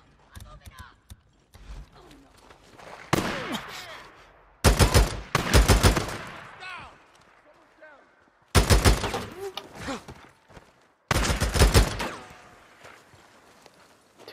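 Enemies fire guns in Days Gone on hard difficulty during a camp infestation, with loud bursts of rapid gunfire in several separate volleys, some shots close, amid quieter scuffling between the bursts.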